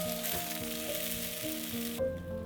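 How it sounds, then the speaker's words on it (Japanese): Food pan-fries until browned on both sides, giving a steady close sizzle with light crackling that drops sharply near the end. "両面焼き色がつくまで焼いたら"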